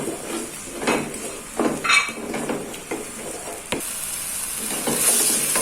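Lemongrass, bay leaves and lime leaves drop into hot oil in a pan and sizzle steadily, with a spoon stirring and scraping against the metal and occasional clinks, heard up close without talk.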